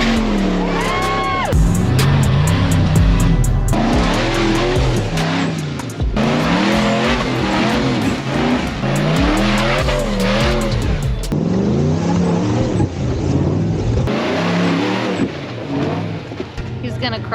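An off-road vehicle on a rocky trail obstacle revs hard in repeated bursts, the engine climbing and dropping in pitch with tire scrabble, loud and close, while voices talk over it.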